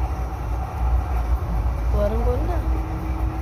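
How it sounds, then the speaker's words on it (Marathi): Riding inside a moving train near Shirdi, a steady low rumble and rolling carriage noise fill the space, with a brief squeal in the middle and a person speaking over it. "आता आम्ही ट्रेन मध्ये आहोत"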